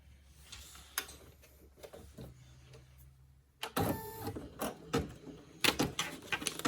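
A home embroidery machine stitches out a word on an in-the-hoop Halloween lollipop holder, giving off soft ticking at first, then a louder fast rattling, tapping run of stitches close by.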